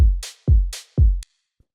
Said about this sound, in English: the next thing we have here is this hi-hat